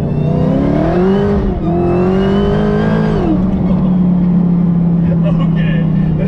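A 1000-horsepower widebody Dodge Challenger Hellcat launches hard in second gear, its supercharged engine roaring loud and close, climbing in pitch for about three seconds before it eases off into a steady, lower drone.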